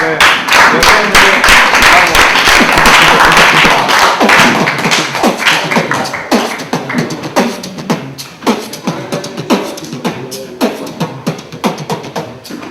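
A live audience at a talk on hip hop's origins claps loudly and steadily, a dense burst of palms that thins after a few seconds into scattered, slower claps with some voices mixed in.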